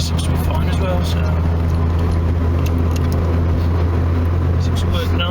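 A Nissan N13 Pulsar's engine runs steadily with a constant low, loud hum throughout, with no pauses and no clear speech over it.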